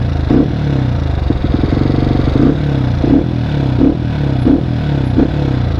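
A modified motorcycle engine with an upgraded exhaust idles loudly nearby in an uneven, rumbling, lopey rhythm, with regular throttle blips pulsing about every half to three-quarters of a second.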